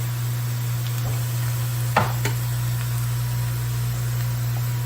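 Onions softening in a pan for homemade barbecue sauce, a steady close sizzle with a constant hum beneath it and a single sharp clack of a utensil partway through.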